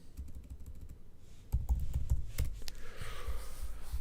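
Quick clusters of computer keyboard keystrokes as a search is typed, close and crisp, with a denser flurry of key presses in the middle and no talking.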